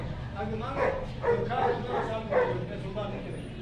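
Dogs at a pets market in Quetta give a series of short barks and yips under steady crowd noise and busy market chatter, with a voice speaking over them.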